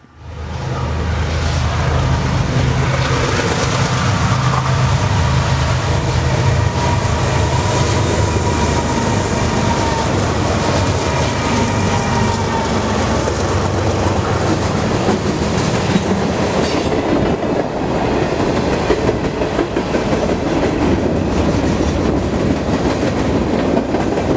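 A fast mixed freight train roars past up close, a steady loud rumble with rhythmic clattering of wheels over rail joints throughout.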